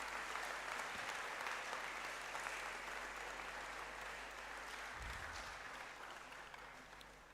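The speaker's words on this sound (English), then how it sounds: "I think he deserves another round of applause." Applause from the audience at an inaugural university lecture: a steady, even wash of many hands clapping, fairly distant and soft, slowly tapering off toward the end with no voices over it.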